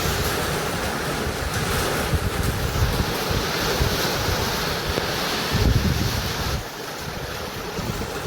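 Strong wind roars and gusts through a rainstorm, a loud, rushing noise that swells and dips slightly without any speech.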